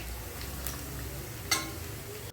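Chopped onions for a katla fish curry sizzle softly in a pan while being stirred, with a few faint scraping clinks of the utensil against the metal.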